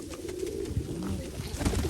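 Pigeons coo softly in a loft of Mykolaiv pigeons, low rolling calls overlapping continuously at close range, with faint rustling and no talk.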